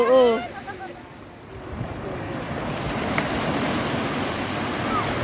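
Ocean waves wash and roll at a beach where a child swims, a broad continuous surf hiss with wind buffeting the microphone, and a voice calls out briefly at the start.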